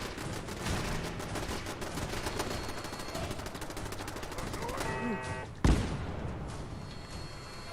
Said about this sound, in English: And there's still a lot of shooting going on.